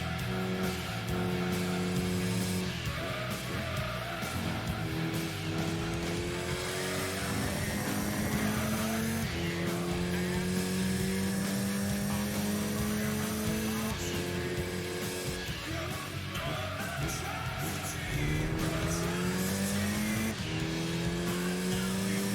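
Mitsubishi Evo VI RS racing in Gran Turismo 2, its engine droning loud and continuous with rising pitch sweeps through gear changes across the lap, occasional tire squeal mixed in.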